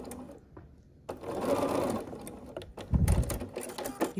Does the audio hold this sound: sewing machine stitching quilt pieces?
yes